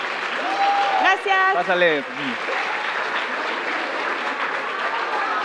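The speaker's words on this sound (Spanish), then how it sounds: "vamos a darle un fuerte aplauso a Andrea" An audience at a Pixelatl 2022 talk applauds an artist, a steady wash of clapping that begins under brief speech and then continues alone to the end.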